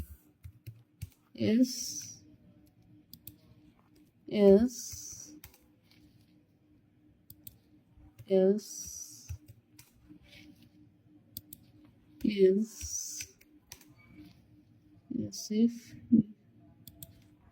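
Keys clatter in short bursts on a computer keyboard while JavaScript code is typed, each flurry of rapid clicks followed by a quiet pause, with someone speaking Bengali in between.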